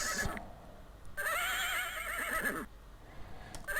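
A horse in the King's Quest II video game gives a loud, wavering whinny with rising and falling pitch, preceded by a short game tone and followed by brief electronic blips, with no one speaking.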